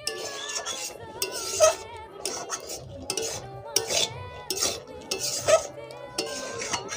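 Carrot halwa mixture being stirred with powdered milk in a pan, with soft intermittent scraping and clinking of a utensil against the metal, close and fairly quiet.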